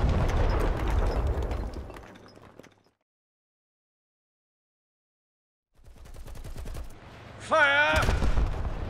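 Rapid volley of tank and machine-gun fire in a battle, loud bursts at the start and again near the end with a silent gap between, shouted voices mixed in.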